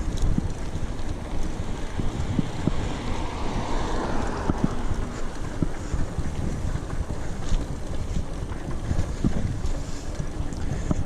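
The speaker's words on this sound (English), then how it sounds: "I think the wind died down quite a bit. It's still there, but nowhere near as strong." Strong wind buffeting the microphone during a trail bike ride through a nature reserve, a loud, continuous rumbling roar with gusty low-end blasts and no talking.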